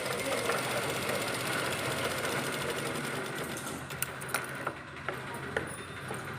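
A sewing machine stitches a garment at the neck finishing, running in a fast continuous whir that slows into a few sharp clicks and taps near the end.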